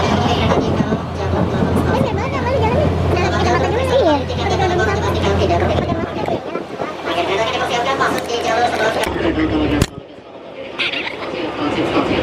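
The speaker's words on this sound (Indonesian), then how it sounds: "sekarang kita mau naik kereta pertama, yaitu dari stasiun Tebet" Interior of a KRL commuter train departing Tebet station in Jakarta, with a steady low rumble and rattling of the carriage under continuous chatter from passengers, the drone dropping out briefly near the end.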